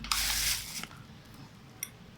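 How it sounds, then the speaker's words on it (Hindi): Water is poured onto semolina for halwa in a short, loud splashing gush lasting under a second, followed by a faint drip or click. "इसमें आपने पानी डाला है"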